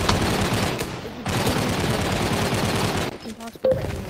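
Rifle fire in the VR shooter game Gun Raiders, a dense rattling burst running nearly continuously at close range, broken by brief gaps near the end, with a player talking over it.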